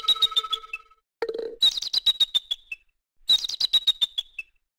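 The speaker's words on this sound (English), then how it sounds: "For a big bird, that eagle has a pretty small call." An eagle call in the Where in Time Is Carmen Sandiego? video game: three quick bursts of thin, high chirping notes, close and clear with brief gaps between them, and no talking.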